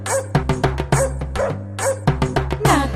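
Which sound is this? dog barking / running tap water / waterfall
dog barking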